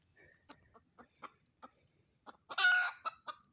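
Red junglefowl clucking close by, a series of short sharp clucks spaced irregularly with one louder, longer squawking call near the end, over quiet surroundings.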